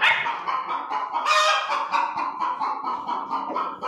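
Chickens in a village coop give off loud honking, squawking calls in quick overlapping bursts close by, with no talk over them.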